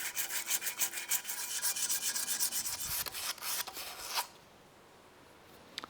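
A stainless and titanium utility blade is rubbed with 240 grit sandpaper, quick rhythmic rasping strokes close by that stop abruptly, leaving quiet.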